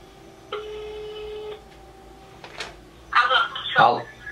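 A telephone rings on an outgoing call, a steady tone pulsing in a few long rings, then a voice answers and people begin talking.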